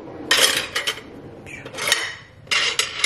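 Kitchen utensils clatter and rattle in bursts as they are shuffled around inside a drawer, bright metallic jangles with short pauses between handfuls, close by and without talk.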